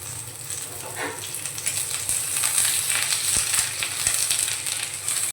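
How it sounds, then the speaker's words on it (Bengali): Curry leaves and onion frying in a pan, a loud continuous hiss and crackle with spatula stirring underneath, steady throughout and ending abruptly, no talking. "কারি পাতা দিয়ে আমি একটু নাড়াচাড়া করে নিয়েছি"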